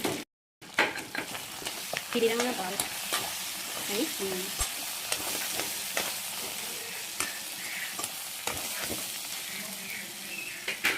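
Ginger and garlic sizzle in hot oil in a pan during cooking of a Mishing chicken dish, with steady frying hiss and intermittent scraping stirs of a spoon, no talking.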